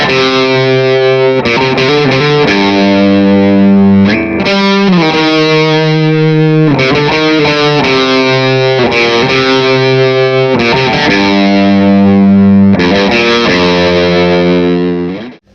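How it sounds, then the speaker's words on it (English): A 58 Reissue Les Paul with Seymour Duncan Alnico 2 pickups, overdriven through a 50-watt Twin Reverb and a Rivera 2x12 cabinet with Celestion Creamback speakers, plays loud, thick distorted chords and riffs with brief pauses, up close and alone. "The twin reverb is running at 50 watts and through a Rivera 2x12 with Celestion G12M65 Creambacks speakers. The 58 Reissue Les Paul has Seymour Duncan Alnico 2 pickups."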